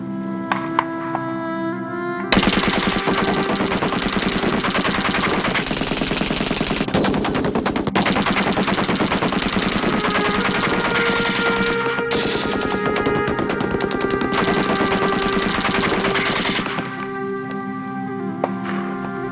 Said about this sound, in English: The machine gun could fire 600 rounds a minute.